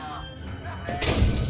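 A tank cannon firing in the tank combat game GHPC (Gunner, HEAT, PC!), a single heavy in-game thud landing late and fairly loud over low rumbling background noise.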